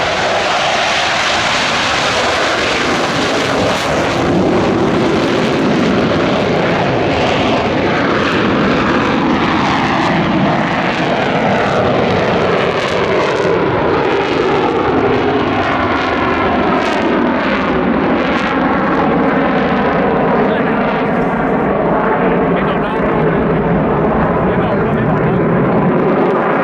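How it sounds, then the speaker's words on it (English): A pair of French Navy Dassault Rafale M jets roar past at an air display, a loud continuous engine rumble whose pitch sweeps downward as the jets pass and recede, filling the whole stretch without a break. "the host unit, the French Navy's member squadron of the NATO force, of the magnificent Dassault Rafale"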